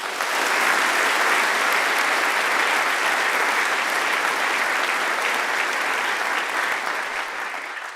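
Audience applause welcoming panel speakers at a tech talk on artificial intelligence, a loud, dense, sustained clapping from a large crowd that continues steadily and eases slightly near the end.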